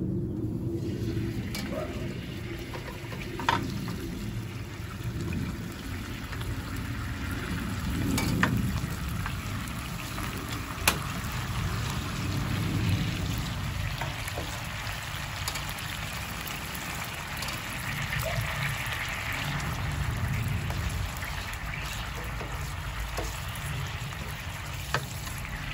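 Pasta ingredients cooking in a pan, giving a steady, even sizzle and crackle that holds throughout, with occasional faint clicks and a voice speaking softly underneath.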